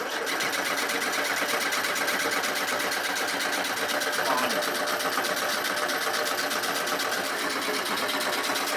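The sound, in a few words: Alpine Gordini engine cranking and stumbling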